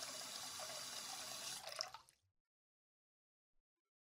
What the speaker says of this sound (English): that's the hot water